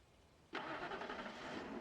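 In the video game Alan Wake 2, a car engine starts with a sudden loud crank and catches into a steady rumbling idle after a quiet moment.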